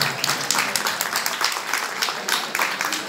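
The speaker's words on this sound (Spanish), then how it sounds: "Gracias por ese aplauso" An audience claps in a dense, continuous wash of applause that stays fairly loud and even throughout, with no voices standing out.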